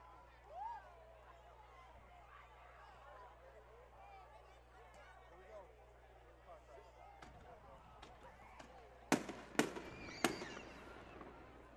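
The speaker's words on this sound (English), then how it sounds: "That's fireworks going off here at Wynne." Fireworks bursting at a high school football game between Nettleton and Wynne after a touchdown, several sharp loud cracks in quick succession near the end, over steady crowd murmur and distant voices.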